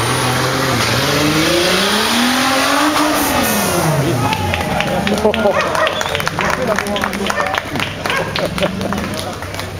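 Racing car engine running and revving close by, with a droning, shifting pitch that rises and falls over roughly ten seconds. A crowd murmurs and people talk over the engine noise.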